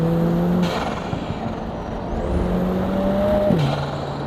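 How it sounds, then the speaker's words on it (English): A Lotus Emira engine drones under a rising turbo whistle that ends in a sharp whoosh as the throttle lifts, with no talking. "I love the turbo sounds behind my head as well. You've got the whooshing."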